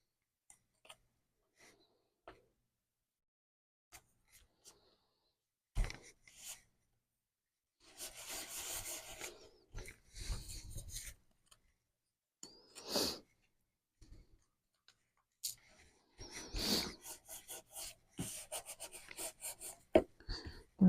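Vellum being rubbed down onto cardstock over tacky glue for a cut-out rose craft, heard as close, dry rasping rub strokes in bursts, some long and some short, separated by quiet pauses.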